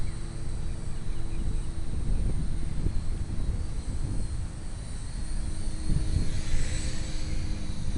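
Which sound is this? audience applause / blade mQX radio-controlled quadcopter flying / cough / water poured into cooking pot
blade mQX radio-controlled quadcopter flying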